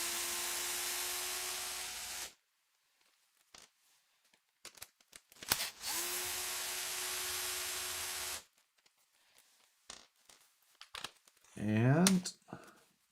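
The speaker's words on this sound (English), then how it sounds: "Two more screws." A power drill backs out two screws, giving two loud bursts of steady whirring, each about two seconds long and heard close, separated by quiet handling clicks and ending in a rising squeal.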